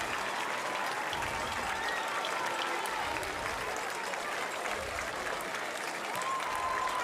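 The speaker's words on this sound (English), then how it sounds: "Standing ovation for number 50, Paxton Ussery" Crowd at a high school football game giving a standing ovation, a dense, steady wash of applause from many people heard at a distance and sustained throughout.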